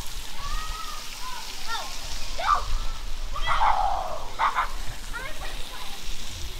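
Water park showers spray and splash steadily at middle distance, with bright bursts of spray rising over the continuous rush and voices and laughter scattered through.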